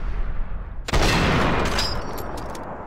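A sudden loud gunshot burst from the video game Fallout 3 bursts out after a quiet low hum, followed by a sharp ringing decay and scattered clicks.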